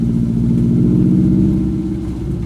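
Subaru STI with a downpipe and 2.75-inch exhaust, its engine rumbling close and loud in a steady, uneven low burble that swells slightly midway.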